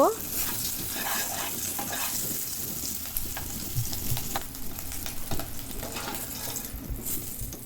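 A spatula scrapes and stirs through eggs sizzling with turmeric powder in a frying pan, with steady crackling frying throughout and occasional clinks and louder scrapes.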